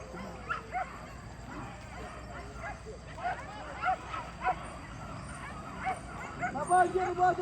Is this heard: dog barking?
yes